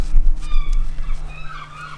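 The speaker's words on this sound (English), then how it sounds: "Seagulls, you know." Seagulls call outdoors on a breezy day, their thin, wavering cries drifting in and out at a moderate distance over a steady low rumble of wind.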